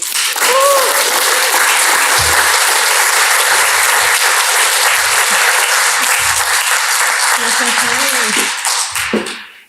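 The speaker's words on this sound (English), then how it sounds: "let's give him a round of applause, everybody." A crowd applauds steadily and loudly for several seconds, a few voices calling out underneath, before the clapping fades away.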